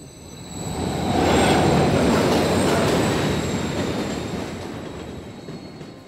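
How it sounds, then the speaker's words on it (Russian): A loud train in Call of Duty: Modern Warfare III rushes past at high speed, its rumbling, squealing roar swelling and then slowly fading, with no talking. "Опять поезд."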